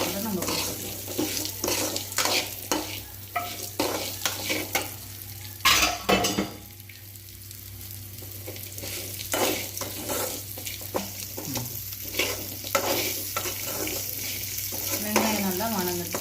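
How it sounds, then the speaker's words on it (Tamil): Onion sautés in a pan for pirandai chutney, its steady sizzle broken repeatedly by scraping, clattering strokes of a spoon stirring, close and fairly loud with a brief quieter stretch midway. "வெங்காயம் நல்லா வணங்கட்டும்."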